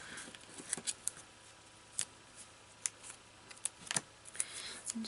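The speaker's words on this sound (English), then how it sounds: "let's grab the foam tape" Scissors snip through strips of foam tape for a handmade feel-better card, a series of faint, sharp clicks and cuts spaced irregularly, close by in a quiet room with no talking.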